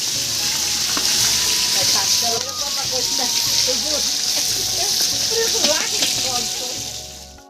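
Cumin, bay leaf and dried chilli tempering in hot oil for dal, a loud steady hissing sizzle that runs throughout, with voices talking over it.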